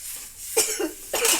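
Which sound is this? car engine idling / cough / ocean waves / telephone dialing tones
cough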